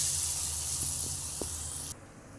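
Chana dal vadas dropped into hot oil give a strong, steady sizzling hiss that cuts off abruptly near the end, with a few faint knocks underneath.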